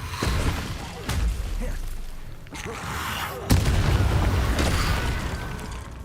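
Repeated Confringo fire-spell blasts in Hogwarts Legacy, loud booming bursts with sharp attacks, one hitting just after a second, another midway and a heavy one further on, each trailing into rumbling, crackling battle noise.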